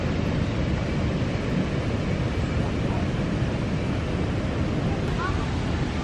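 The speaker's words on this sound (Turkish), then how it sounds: "Ama yine şelalede su var. Arka taraftan sesi geliyor." A waterfall rushes out of sight behind the listener, giving a constant, dense roar that runs unchanged and fairly loud throughout.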